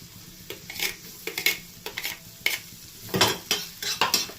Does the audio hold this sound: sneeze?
no